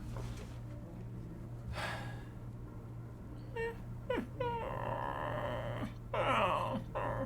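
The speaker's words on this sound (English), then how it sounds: "sounds like there's a wounded animal in there." An animal that sounds wounded groans, snorts and gasps in a fantasy dungeon game, the pained cries coming in uneven bursts over a low steady hum, moderately loud and close.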